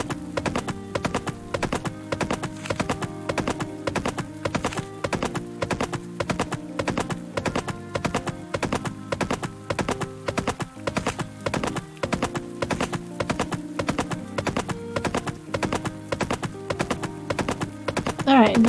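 Steady, rapid hoof clip-clop from a horse ridden through a forest in the video game Pumpkin Days, close and continuous for the whole stretch, with a brief louder sound at the end.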